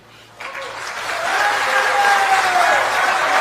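Audience applause at a talk by Pushpendra Kulshrestha, clapping that swells up after a quiet start and then holds a loud, steady roar, with a faint tonal whistle running through it.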